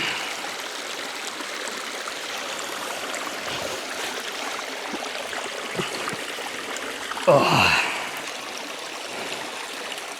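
A mountain stream runs steadily in a continuous rushing wash on an Adirondack trail, with a brief splash or rustle near the end and a short spoken word.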